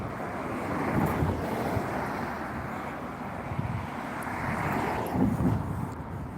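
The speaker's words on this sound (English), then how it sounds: "thought I'd get out with a drone for an hour or two" A drone flies outdoors on a windy day, heard as a steady broadband whir buffeted by gusty wind noise across the whole stretch, with no talking.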